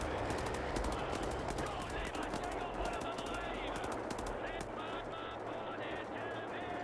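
Rapid automatic gunfire from the shooter game Wolfenstein: The New Order, dense bursts of sharp repeated shots over a busy game soundscape, loud and continuous throughout.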